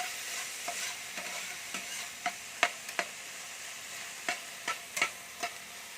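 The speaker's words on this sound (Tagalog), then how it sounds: "Gigisa lang natin yan" Food sautés in a pan for homemade chowpan, with a soft, steady sizzle under repeated stirring scrapes and light taps of the spatula, fairly quiet and close, with no speech.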